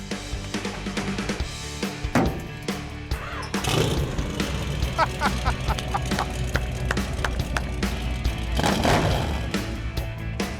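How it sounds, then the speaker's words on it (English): A Dodge Demon 340 V8 with glass-pack mufflers rumbles deep and throaty up close, revving in loud blats with a raspy, open exhaust tone. "Those are glass packs, baby!"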